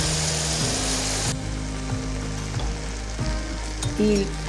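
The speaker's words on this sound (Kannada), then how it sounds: "ಇವಾಗ ಬ್ರೋಕನ್ ಮೀಟು, ಹೆಸರುಬೇಳೆ ಎಲ್ಲ ಹಾಕ್ತೀನಿ, ತಿರುಗಿಸ್ತೀನಿ." Broken wheat and moong dal fry with spice powder in a pot for bisibele bath, giving a loud, steady sizzle close up, broken by regular scraping strokes of a stirring spoon.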